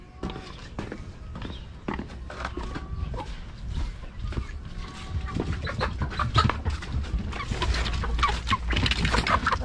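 Farm chickens cluck and chatter nearby as they are fed vegetables, with scattered footsteps and rustling, the clucking growing busier and louder toward the end.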